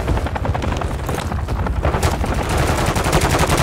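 Rapid automatic gunfire from Call of Duty Modern Warfare III rattles in loud, dense bursts, mixed with heavier booms and a helicopter-like rumble, continuing without pause.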